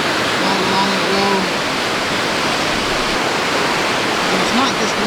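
A long series of small waterfalls pours steadily on tribal land in New Brunswick, Canada, a loud, continuous broadband roar of rushing water, with a voice faintly under it.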